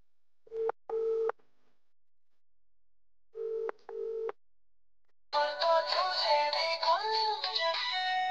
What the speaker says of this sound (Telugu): ఒకసారి మా అన్నవి చేస్తా మరి ఫోన్.